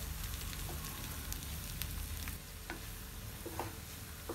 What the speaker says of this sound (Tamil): எல்லாத்தையும் நல்லா மிக்ஸ் பண்ணி விடுங்க ஒரு 3 ல இருந்து 5 நிமிஷம் வரைக்கும் இந்த காய்கறி எல்லாம் நல்லா வதக்கி விடுங்க